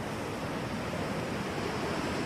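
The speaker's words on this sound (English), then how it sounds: "the sound of waves" Ocean waves give a steady, broad wash of surf noise, even and continuous, with no distinct breaks or voices.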